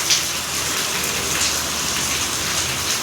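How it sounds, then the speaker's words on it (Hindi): Steady, heavy rain pours down in a continuous hiss, dense and close, with no voices or other sounds. "इतनी अच्छी बारिश है।"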